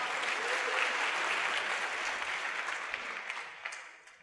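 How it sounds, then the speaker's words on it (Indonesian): Sustained applause from a seminar audience, a dense wash of many hands clapping that holds steady and then gradually thins and fades toward the end. "Aplaus buat Anda Bapak Ibu."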